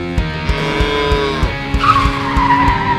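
A car skids on the road while unable to brake, giving a loud, sustained tire squeal that rises over a pulsing, engine-like drone.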